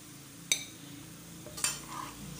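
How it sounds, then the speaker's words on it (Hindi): Onions browning in a pan for haleem and being lifted out, two sharp metallic scrapes of a spoon against the pan over a faint, steady sizzle. "ये देखिए, प्याज हमारा लाल हो रहा है, अब मैं निकालने लगी हूँ"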